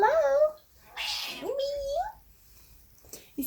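A cat meows twice at close range, a wavering voiced cry near the start and another rising-falling meow a second later, with soft rustles in between.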